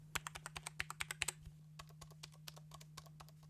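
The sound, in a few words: button click sound of Teenage Engineering EP-133 K.O. II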